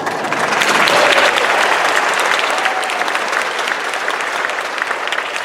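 An audience applauding at the opening of a new field house, a full, steady round of clapping from many hands that swells early and holds strong throughout.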